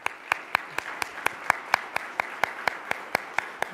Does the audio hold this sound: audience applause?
yes